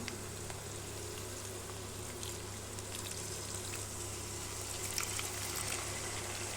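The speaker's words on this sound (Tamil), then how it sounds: "கொஞ்சமாக தண்ணி சேர்த்துக்கலாம்." A little water goes into a pan of frying goat brain seasoned with rock salt, giving a faint, steady trickle and soft sizzle that runs evenly and quietly throughout.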